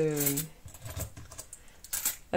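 Euro coins of one and two euros clinking and jangling together as they are handled close by for an envelope, a short metallic rattle with a brief tonal sound at the start and a final clink.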